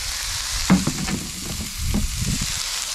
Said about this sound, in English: Get all that on there, you hear it sizzling.